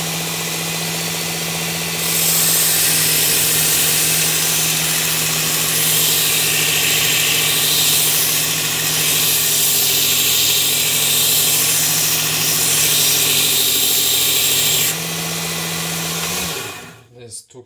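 A Work Sharp blade grinding attachment thins and sharpens an ESEE 3 knife, giving a loud, steady motor whine with a harsh grinding rasp over most of its length that stops near the end.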